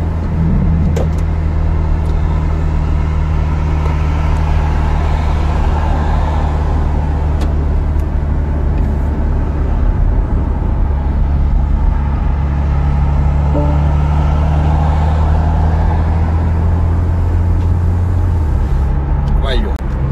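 The power soft top of a facelifted BMW M4 convertible opens over about eighteen seconds at low speed, a steady low mechanical hum layered over engine drone that stops near the end.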